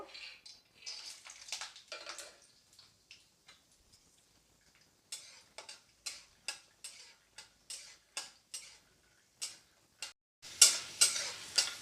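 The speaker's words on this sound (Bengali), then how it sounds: "তেলটা গরম করতে দিয়ে দিয়েছি, এবার আমি একটু বাদাম ভেজে নেব।" Peanuts fry in hot oil in a pan, heard as a string of close, crisp clicks and light sizzling bursts with short gaps, ending in a louder spattering flurry.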